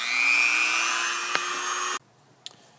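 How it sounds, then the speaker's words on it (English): A Dremel with a metal rotating brush whines steadily up close while cleaning a corroded C6 Corvette door handle pressure plate, then cuts off abruptly and leaves near silence with a small tap. "So I'm going to start with the metal rotating brush here with the Dremel"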